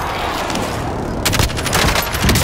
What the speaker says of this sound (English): Precision airstrike incoming